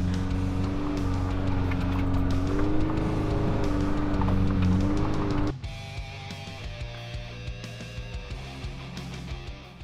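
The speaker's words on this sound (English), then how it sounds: "But towing a trailer full of rubbish in soft sand sometimes could be a mission." A vehicle towing a trailer full of rubbish labours through soft beach sand, its engine droning loud and strained with rising pitch, then dropping abruptly to a lower, uneven idle-like rumble.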